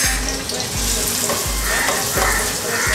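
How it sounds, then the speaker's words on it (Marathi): Two large onions frying in hot oil for an Agri Koli dal mundi dish. A loud, continuous sizzle is heard up close, punctuated by regular dull low thumps, with no one talking. "तेल गरम झाले चांगलं. त्यामध्ये कांदा टाकते मी आता."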